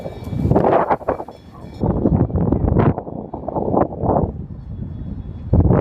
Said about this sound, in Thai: ที่ดังบือบือนี่คือลมนะครับ